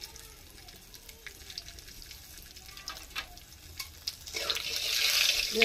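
Two bay leaves and whole cumin seeds in hot oil, stirred: quiet, scattered clicks and stirring at first, then a brighter hissing sizzle swells over the last second or so.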